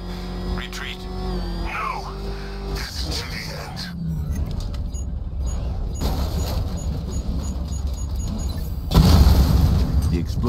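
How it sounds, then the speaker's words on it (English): A Batman: Arkham Knight battle in which an explosion knocks out an enemy tank's main cannon. Dense, rumbling game audio with music gives way to a loud, heavy blast near the end. "explosion disabled the main cannon"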